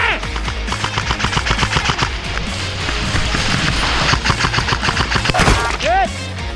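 Rapid bursts of airsoft gunfire crackle through an indoor arena game at Carman Dufferin Arena, dense overlapping volleys from several guns rattling continuously and close, with players shouting over the shots.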